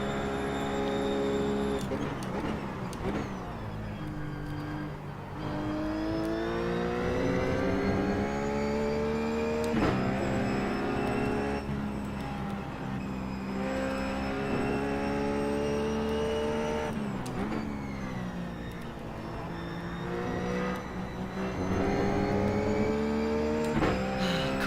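A Porsche race car's engine at Road America in iRacing, droning loudly and continuously with rising pitch through the gears, dropping sharply at each shift or lift before climbing again.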